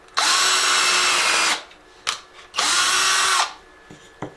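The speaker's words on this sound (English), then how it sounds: "Now I'm going to go ahead and drill a hole in the bottom" A power drill bores holes in a craft snowman door hanger in a home kitchen, two loud, close bursts of about a second and a half each, separated by brief clicks and handling noise.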